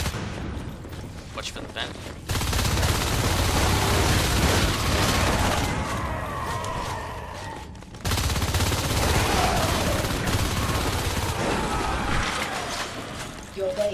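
Sustained automatic gunfire from marines shooting a harvester in Natural Selection 2, loud and continuous in long bursts, with voices talking over the shooting.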